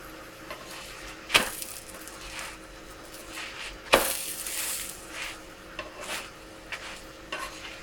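A paneer and radish paratha crisps on a pan, softly sizzling under two sharp metallic scrapes of a spatula against the pan and lighter taps and stirring sounds that follow, close and quiet, with no talking.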